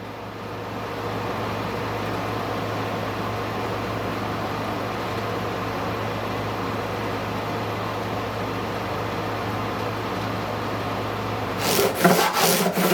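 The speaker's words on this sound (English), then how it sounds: "So I'm sanding it using the same sanding block and 220 sandpaper." Steady abrasive rubbing of a sanding block with 220-grit sandpaper over guitar frets on a Martin HD-28 during a refret, a continuous close, even scraping texture lasting several seconds, ending with a few sharper knocks.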